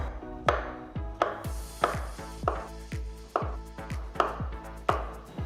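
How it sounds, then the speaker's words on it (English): Ripe bananas being sliced thin with a knife on a cutting board, about a dozen crisp, evenly spaced chops at a steady rhythm, close and clear with no talk. "Cut the banana into thin slices."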